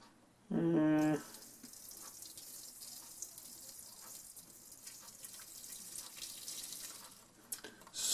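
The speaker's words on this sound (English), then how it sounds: "I'm going to pour it in." Liquid, likely browned butter with its milk solids, poured into a pan: a brief bright gush and splash, then a steady soft hiss of sizzling in the pan, with no talking.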